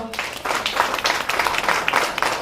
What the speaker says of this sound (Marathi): तर झालेल्या सत्रासाठी जोरदार टाळ्या वाजवा